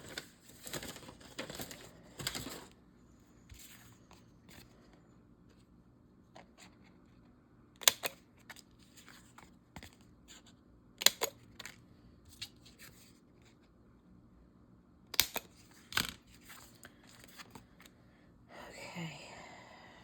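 Scissors snipping through paper at a craft table, scattered crisp cuts and rustles spread across the stretch, close and intermittent, with a soft voice murmuring between them.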